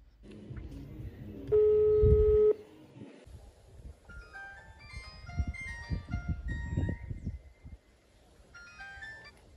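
A phone call is placed: a steady electronic tone sounds for about a second, then a run of short beeping tones follows over faint background noise and murmuring voices.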